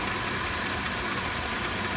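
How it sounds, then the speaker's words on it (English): Mercedes W211 E350 engine at idle, a steady even mechanical hum with a broad noisy wash, heard close and continuous with no variation. "the engine's running fine now"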